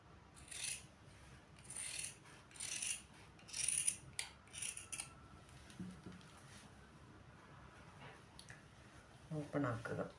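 Scissors snip through fabric while a child's dress is cut out at a sewing table, a run of short, close crisp cuts with rustling and pauses between them.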